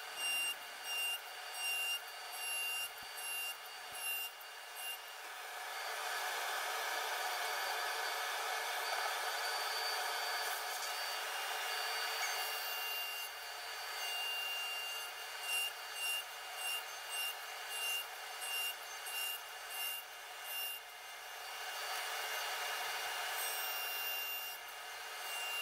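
Saw cutting through an oak block along the fence, several passes of high whining cutting noise, some short and repeated and one long sustained stretch in the middle, with brief pauses between cuts.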